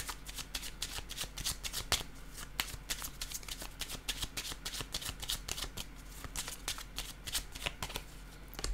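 Playing cards shuffled and handled continuously at close range, a dense run of crisp riffling flicks and soft slaps as cards are laid down, with no talking.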